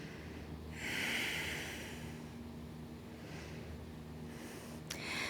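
Quiet, close breathing during a yoga stretch, with a long exhale through the nose and softer breaths after, ending in a brief sharper sniff.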